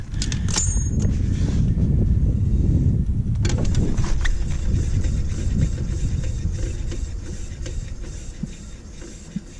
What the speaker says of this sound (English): I've got the two tires reinstalled on the right side of the trailer, so let's give this one a spin.